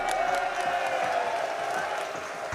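Crowd noise at the BLAST R6 Manchester Major Rainbow Six Siege grand finals, with Team BDS facing beastcoast: a steady wash of cheering and applause from a large audience, heard at a distance under a voice.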